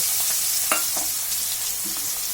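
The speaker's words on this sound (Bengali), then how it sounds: "তেলটা খুব ভালো করে গরম হয়ে গেলে ম্যারিনেট করে রাখা চিংড়ি মাছটা আমি প্রথমে ভেজে নেব।" Marinated prawns frying in hot mustard oil in a wok, a dense close sizzle with a few light clicks and stirring taps, steady and moderately loud, nobody talking.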